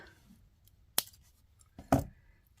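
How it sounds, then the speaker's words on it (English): Jewelry wire strand being cut with a cutter, two sharp snips about a second apart, close and distinct against quiet surroundings. "So I'm just going to cut off a strand."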